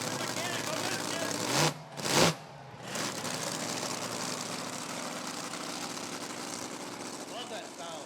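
Monster truck Mechanical Mischief at a Rockford Speedway freestyle event, its engine running as a steady loud roar with a couple of brief revving swells early on, crowd and arena noise throughout, no talk over it.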